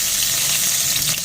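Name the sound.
cumin frying in a pan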